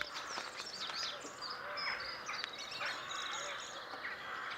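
A flock of jackdaws calls from somewhere near a town, with many short, overlapping chattering caws at moderate distance and a low background murmur.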